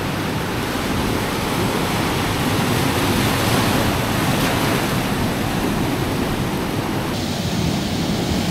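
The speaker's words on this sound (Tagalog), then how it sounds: "mataas yung tubig tsaka malakas yung alon" Strong ocean surf crashes and roars continuously, a dense wash of breaking waves with wind noise mixed in.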